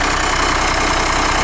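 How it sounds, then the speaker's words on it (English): Steady diesel engine idling on a 1997 Blue Bird TC2000 rear-engine bus, a loud, even rumble recorded up close with no talk. "This is one of the quieter diesel engines,"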